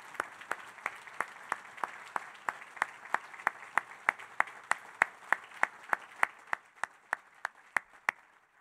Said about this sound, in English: Let's give a big round of applause to our Honor Guard.